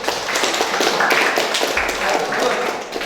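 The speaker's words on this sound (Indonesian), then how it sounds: "Kasih tepuk tangan untuk kelompok 1." A classroom claps for a student group, with a few seconds of uneven, moderately loud hand claps and some voices mixed in.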